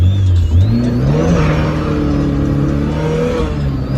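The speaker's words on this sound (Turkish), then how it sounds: "Çok iyi ses var arkadaşlar bu arabada." A Tofaş Şahin car's engine revs hard from inside the cabin as it pulls away on the road, with a rising then steady loud drone and climbing pitch over four seconds, no talking.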